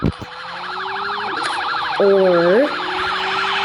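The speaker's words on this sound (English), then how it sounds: "Is it just a normal police car?" A police car siren in the video game Car Crash SIM 2 wails steadily in a rising and falling pattern, with a short voice and a brief horn-like blast mixed in.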